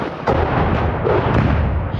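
Artillery shelling in Irpin, Ukraine: heavy, close booms and rumbling blasts hit in quick succession, loud throughout with no voices.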